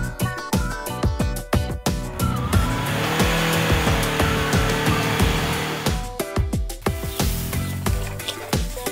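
Cartoon-style truck noise at a zoo: a roaring, revving engine with squealing, skidding tones swells in and holds loudly, framed by rapid percussive music hits before and after.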